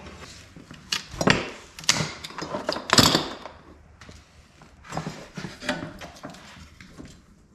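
A flexible rubber fuel line on an 85 C10 truck with a 5.3 LS swap is cut, giving a series of close, irregular crunching and creaking snips that come in bursts with short pauses between them.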